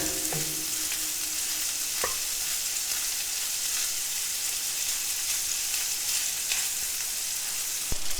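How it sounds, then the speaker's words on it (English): Vegan meat chunks fry and brown undisturbed in a pan, giving a steady, even sizzle close by with a few faint clicks, no talking. "really let them crisp up. Really let them just sit here for at least like 5 minutes to brown."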